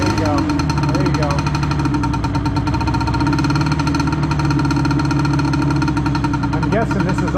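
A 10mil Cub small engine runs on fresh fuel, chugging loud and close in an uneven idle with rising and falling revs, while a voice speaks over it.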